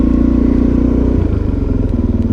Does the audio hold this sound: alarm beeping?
no